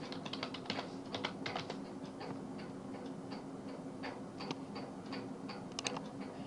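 Rapid typing on a computer keyboard, with quick irregular key clicks and short bursts of keystrokes heard up close and fairly quiet, with no voices.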